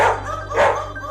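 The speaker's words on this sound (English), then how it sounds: "It's a dog." A dog barks twice in quick succession, close and loud, with nothing else around it.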